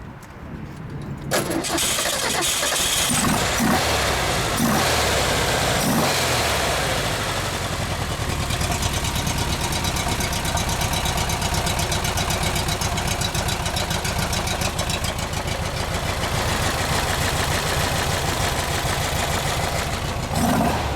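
A 6-volt, air-cooled 1964 Porsche 356C cranks briefly, fires and catches, then settles into a steady, smooth idle with an even, throbbing pulse, loud and close for the rest of the time.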